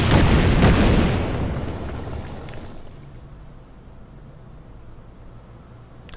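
Artillery fire in the Winter War strategy game Order of Battle, a loud booming blast that rolls out and decays into a long, fading rumble.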